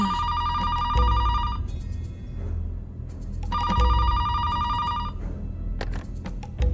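Bursts of a ringing telephone bell repeat in two long rings with a shorter one after, loud and close in an indoor scene, with a little background noise between rings.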